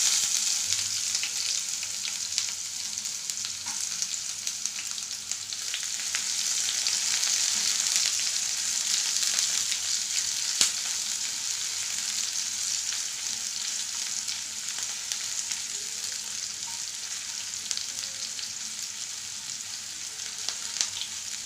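Onions fry in a pan with hot oil, giving a steady, close sizzle that lasts throughout with small crackles and no voices.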